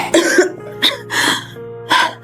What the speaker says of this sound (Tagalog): Ano ba tong ubo na to?